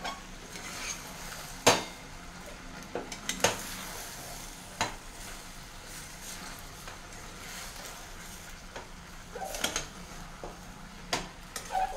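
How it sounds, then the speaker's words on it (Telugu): A spoon stirring brinjal and green peas curry in a pan, with soft scraping and a few sharp clinks against the metal over a faint sizzle, close and fairly quiet. "మిక్స్ చేద్దామండి ఇప్పుడు."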